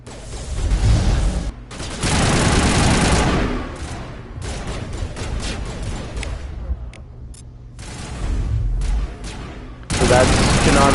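Mass accelerator gun fire in the sci-fi game Mass Effect, loud bursts of rapid shots in several clustered volleys, with dense crackling gunfire filling most of the stretch and a heavy blast closing it.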